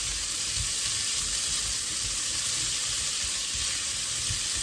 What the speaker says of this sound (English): We're just sauteing those around a little bit.